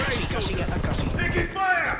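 Rapid gunfire in Call of Duty Warzone 2 on Rebirth Island, a fast rattling burst that runs over in-game voice callouts and then gives way to a short tonal game sound effect.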